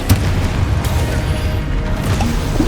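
Confringo spell blasts in Hogwarts Legacy, booming magical explosions packed into a dense, loud burst of combat noise with repeated impacts over a few seconds.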